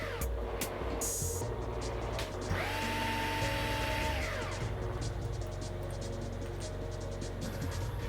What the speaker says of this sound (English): After deciding where to place the pins, Maru began by carefully drilling each one into position.